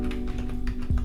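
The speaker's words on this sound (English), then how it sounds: "I just put a bracket while typing the name of a team" Rapid keystrokes clatter on a computer keyboard at close range, a quick irregular run of clicks over a steady low hum.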